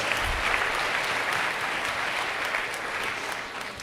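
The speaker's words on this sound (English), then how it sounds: "First, you can applaud that." A large audience applauds loudly and continuously in a hall, a thick, sustained roar of clapping that eases slightly toward the end.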